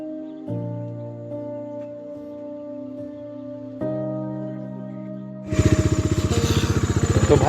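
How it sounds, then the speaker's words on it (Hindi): A motorcycle starts on a morning in Bir Billing, Himachal Pradesh: a steady idle tone first, then the engine catches into a loud, rapid, close putter as it warms up, with no talking. "बाइक अभी हमारी स्टार्ट हो रही है, स्टार्ट तो हो गई, बस गर्म कर रहे हैं थोड़ा सा इसको।"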